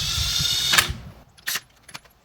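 A TOPSHAK brushless impact driver runs lug nuts in: a dense rattling burst that cuts off, followed by a few short clicks and clanks of handling, close by.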